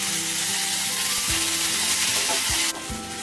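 Tamarind and tomatoes sauté in a hot pan with a steady close sizzle, a few soft scrapes of stirring breaking through, and the hiss dropping slightly near the end.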